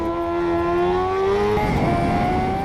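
Kawasaki Ninja H2R superbike on the Isle of Man course revs hard and accelerates, a loud rising engine whine that climbs in pitch, briefly drops at a gear change, then pulls again.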